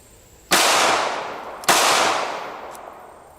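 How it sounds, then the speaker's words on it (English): Two sharp, loud gunshots from a small IC380 pistol shaped like a cellphone, about a second apart, each ringing out in a long fading echo. "All right, this is the first shot with the IC380."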